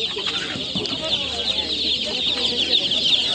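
Many Adler breed chicks and chickens at a poultry market in Sokuluk cluck in a dense, continuous chorus, steady and close with no pauses.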